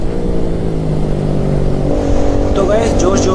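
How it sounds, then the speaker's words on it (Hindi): A motorcycle ridden at high speed on a road through traffic, with a loud steady engine drone and wind roar that rises slightly near the end, while someone talks over it. "बाइक इतनी तेज भाग रही है मैं कुछ बोल ही नहीं पा रहा हूँ"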